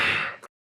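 A single short exhale during fractional breathing practice for swimming breath training. It is a soft, breathy puff that tapers away within half a second, close and alone, followed by silence.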